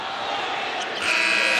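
End-of-half buzzer at a college basketball game in Atlanta, Clemson against Georgia Tech, a sustained electronic tone cutting in near the end over arena crowd noise and a commentator's voice.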